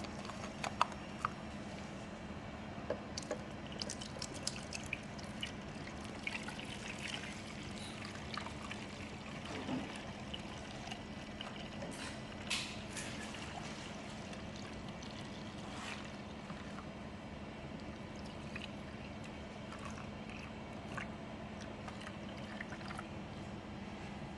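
Running buffer is poured into an SDS-PAGE gel electrophoresis chamber, a faint continuous trickle of liquid with small sloshing bumps, quiet and close without talk.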